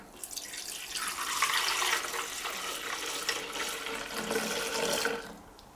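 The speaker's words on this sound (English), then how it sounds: "Add our descaling solution to the tank." Descaling solution pours steadily into the water tank of a Siemens EQ.300 coffee machine for several seconds, a close, continuous splashing gurgle with no talking.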